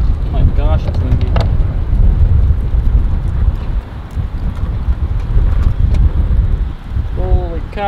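Strong wind roars and buffets the microphone throughout in an outdoor parking lot, a steady low rumble with a voice briefly heard near the start and end.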